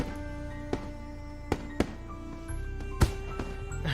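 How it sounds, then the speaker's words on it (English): Fireworks burst overhead in the Katawa Shoujo visual novel, several sharp separate cracks and thumps spaced over a steady tonal music bed, with a heavier pop near the end. "Hanako's gaze still firmly fixed on the Technicolor display of the Technicolor fireworks bursting overhead"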